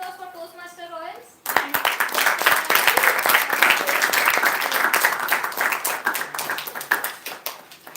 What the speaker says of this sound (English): Let us give a round of applause for Toastmaster Royals